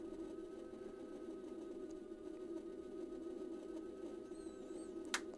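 An electric motor on a Sisigad Dart Max scooter running at steady throttle, a constant mid-pitched hum with a faint whine and a brief click near the end, no talking.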